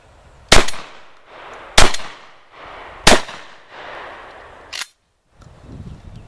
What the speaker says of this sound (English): I'm gonna squeeze off three shots on automatic